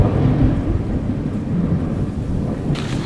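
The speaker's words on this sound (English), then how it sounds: "So this is the part of the journey where we get stuck in the rain." Thunderstorm with heavy rain on a Colorado mountain hike: a loud, continuous wash of rain and low rumbling thunder filling the whole stretch, with a brief brighter hiss near the end and no voices.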